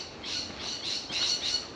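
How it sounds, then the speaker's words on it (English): Birds in suburban bushland at Noranda chirp and call repeatedly at moderate distance, short bright phrases recurring every fraction of a second over a soft outdoor background. "So there's a few birds out here chirping, singing along with us today."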